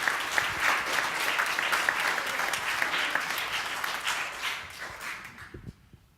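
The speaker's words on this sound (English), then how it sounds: "I would welcome him with some round of applause or something." A church congregation applauds to welcome a speaker, with steady, moderately loud clapping that slowly fades and ends abruptly near the close.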